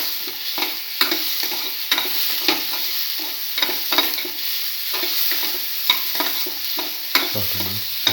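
Tomato pieces and salt are stirred in a frying pan, with a steady sizzle and a spatula scraping the pan in a roughly regular rhythm about once a second, close and alone.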